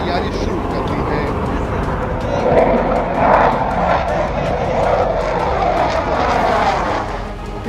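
Rafale, Mirage and Jaguar fighter jets flying over a 3.5-kilometre expressway airstrip at Shahjahanpur during an air force exercise: a loud, sustained roaring engine rush that swells as they pass, with voices talking underneath.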